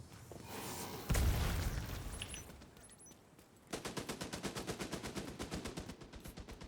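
Automated turrets open fire in The Division, with a few scattered shots and a heavy blast early on, then a steady, rapid stream of gunfire pulsing evenly until the end. No talking.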